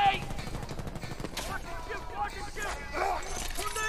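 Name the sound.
gunfire in the video game Medal of Honor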